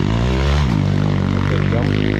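Racing motorcycles at a MangoMoto amateur time attack race, a loud steady engine roar with strong harmonic whine that drops in pitch partway through, close by and continuous.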